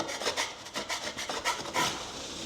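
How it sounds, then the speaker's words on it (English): A putty knife scraping a drywall patch, giving a series of short rasping strokes in an irregular rhythm, close and fairly quiet with no talk over it. "Give it a little scrape before you start."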